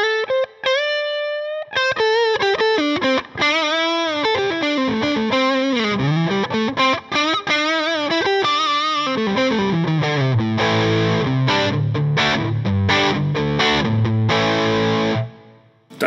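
Electric guitar on the neck pickup through an overdrive pedal set to full gain for blues, playing loud sustained distorted bends and melodic runs, then driving chords toward the end before stopping abruptly.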